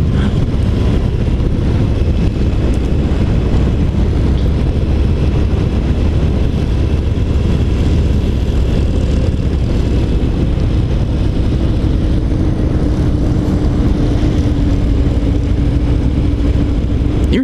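A 2018 Harley-Davidson Fat Bob motorcycle rumbles steadily at low RPM on a test ride, a continuous loud engine drone mixed with heavy wind buffeting, with a rising tone near the end.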